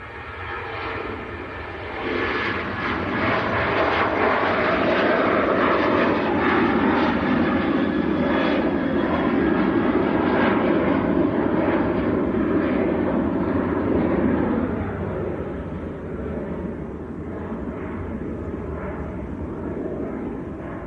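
A Jet2 Boeing 737-800 jet airliner roars loudly at Manchester Airport, a sustained engine rumble that swells over several seconds and then eases slightly while still running strongly, with no talking.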